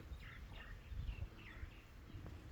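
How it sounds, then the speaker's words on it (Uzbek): Small birds chirp and twitter in open spring countryside near a border area, giving short, faint, scattered calls over a soft low background rumble. "Qushlar sayrab"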